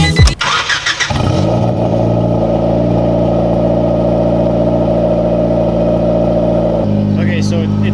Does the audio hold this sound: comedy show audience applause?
no